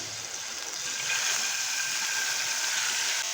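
Water goes into a hot pan of tempering oil with mustard seeds, sesame and asafoetida, the gas switched off, setting off a loud, steady hissing sizzle that swells after a second and holds to the end.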